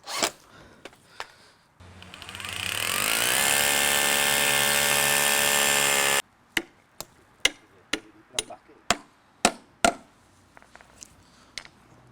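A power screwdriver whirs for about four seconds, its pitch dropping as it drives a screw into the wooden frame of a garden shed being assembled, followed by a series of sharp ratcheting clicks.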